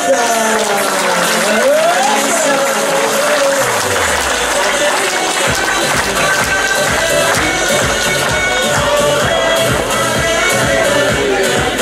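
Audience applause at an SSV rally podium ceremony, a dense continuous crowd clapping that holds for the whole stretch, blended with background music and a rhythmic beat that kicks in partway through.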